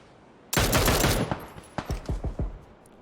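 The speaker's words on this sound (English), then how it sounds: "Shots fired above." Gunfire in PUBG: a loud, sustained burst of rapid shots is followed by about half a dozen separate cracks in an uneven rhythm, with no talking.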